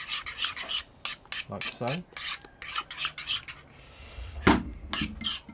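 Greek yogurt being mixed in a bowl, a steady rubbing, scraping rasp of repeated strokes close by, with brief talk in between.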